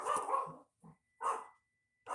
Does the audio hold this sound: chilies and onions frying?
no